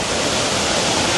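Rushing river water flows in a loud, steady broadband roar, close and continuous with no other sounds.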